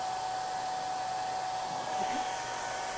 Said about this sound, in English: I'm going to hit it with just a shot of a hair dryer for just a second to kind of dry it